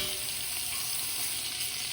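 Pork loin browning in a hot pan, a steady, close, continuous sizzle with no talking.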